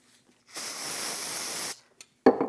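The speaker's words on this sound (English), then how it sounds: "Use a little brake parts cleaner." Brake parts cleaner sprays onto rear brake caliper pins of a 2015-2022 Chevrolet Colorado in one close, sharp hiss lasting about a second, followed by a small clunk.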